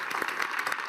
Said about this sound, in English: let's give the Prime Minister a warm applause for coming back after 13 years